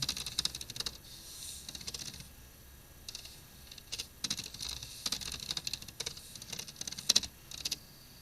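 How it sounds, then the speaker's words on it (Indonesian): Fingers tap a password on a computer keyboard in irregular bursts of light clicks and keystrokes spread over several seconds, with short gaps between them and no talking. "kita tinggal enter aja, masukin passwordnya"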